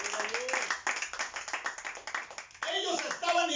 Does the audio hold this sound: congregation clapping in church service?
yes